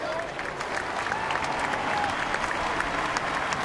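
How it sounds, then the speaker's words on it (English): Baseball crowd applauding Chicago Cubs player Brett Jackson as he reaches the dugout at a Pirates ballpark, a steady, dense wash of clapping from a large stadium audience with a broad murmur underneath. "everybody, including Pirate fans, applauding Brett Jackson as he got to the dugout"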